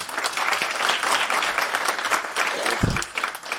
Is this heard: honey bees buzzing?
no